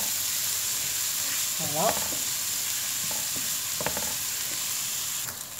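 Rabbit pieces brown in a hot pan for a Provençal-style hunter's rabbit dish, giving a steady close sizzle with a few utensil scrapes and stirs, and a brief word spoken over it.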